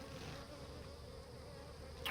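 Honey bees buzz steadily around an open hive during a summer inspection, a dense, continuous drone close by with no voices.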